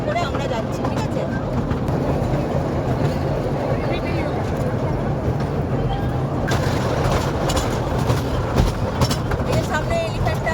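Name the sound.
toy train running over the sea toward Elephanta Caves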